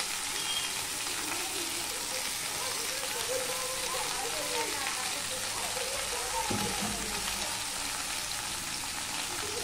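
Spinach leaves hit hot oil in a pan, giving a loud, steady, dense sizzle with a crackly hiss that stays constant throughout.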